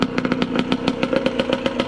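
A cheap used dirt bike engine runs loud nearby, a rough rhythmic popping exhaust with mechanical clatter at a steady idle-like pace, with no talk over it.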